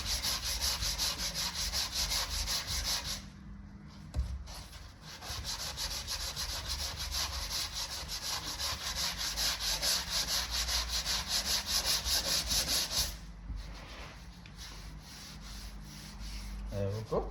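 Sandpaper rubs down a car body panel during vehicle repair, a close, steady scratchy back-and-forth sanding that pauses briefly twice before resuming.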